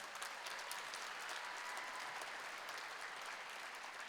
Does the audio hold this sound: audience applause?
yes